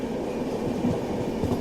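Passenger train rumbling past on the opposite track during an unreserved rail journey, a steady close roar of wheels and carriages that swells slightly at the end.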